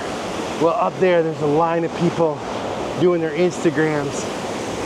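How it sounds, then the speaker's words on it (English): A waterfall in Killarney National Park gives a steady broadband rush close by, partly masked by someone talking over it. "we have a totally unimpeded view of this beautiful waterfall"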